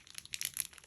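Paper bag pages for a mini album crinkle and rustle sharply as they are folded over and rubbed flat, a quick flurry of close, dry crackles.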